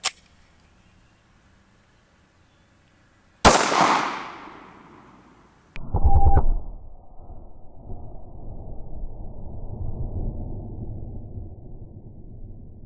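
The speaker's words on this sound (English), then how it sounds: "let's shoot the critical defense out of the Glock 43" A Glock 43 pistol firing Hornady Critical Defense ammunition into ballistic gel outdoors, one sharp loud shot that rings down, followed by a shorter clattering burst and a lingering low rumble.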